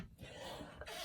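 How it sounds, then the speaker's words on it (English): A single quiet cough from a woman with lung issues, close and faint, heard alone in a soft room during an embroidery session. "lung issues and I cough."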